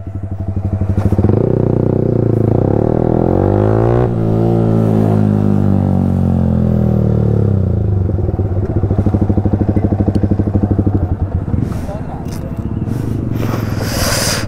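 A BMW S1000RR superbike fitted with an aftermarket exhaust roars loudly as it passes, with a sustained high-revving engine howl that sweeps down in pitch as it goes by and keeps buzzing afterward.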